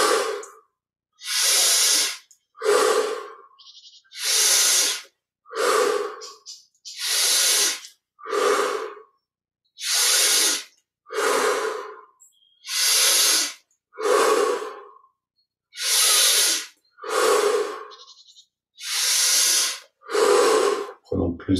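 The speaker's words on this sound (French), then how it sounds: "20 respirations profondes, inspire par le nez," Deep breathing, in through the nose and out through the mouth, as about ten loud, close, rhythmic rushing breaths in a steady cycle with short silent gaps between them.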